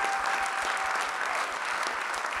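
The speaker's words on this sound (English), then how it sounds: "Let's give everyone a big round of applause" A live audience at a SXSW 2023 podcast taping applauds steadily, a dense, even wash of clapping from a large crowd lasting the whole stretch, with no talk over it.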